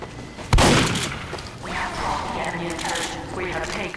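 Gunfire from Team Fortress 2 gameplay: one sharp, loud shot or blast near the start, followed by softer bursts of in-game shooting and rumble, with a voice talking over the action.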